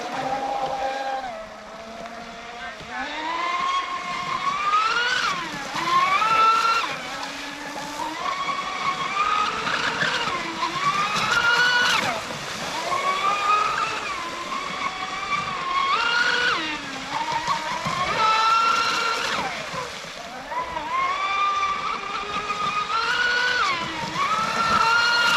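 An Oxidean Dominator 8S RC speedboat runs on water, its high-pitched electric motor whining and rising and falling in pitch as it passes and turns, with a steady rush of water throughout, at a moderate distance.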